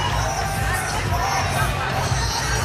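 Crowd at a fight event roaring and cheering in a dense wash of noise, steady and loud throughout with a low rumble and babble underneath.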